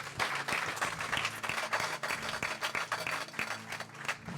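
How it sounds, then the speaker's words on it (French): A church congregation applauding their pastor on Pastor Appreciation Day, a steady wash of many hands clapping at moderate distance, continuous throughout without pauses. "Applaudissez, s'il vous plaît."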